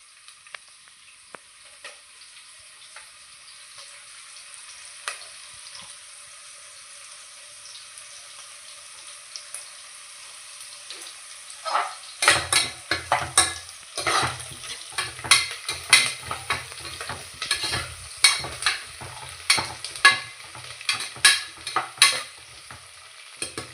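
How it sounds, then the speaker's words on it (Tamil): Onions sautéing in a pan while a mushroom biryani is being cooked: faint sizzling at first, then from about midway loud, repeated stirring scrapes and clatters over steady frying hiss, with no talking. "வெங்காயம் நல்லா வதங்கிடுச்சு"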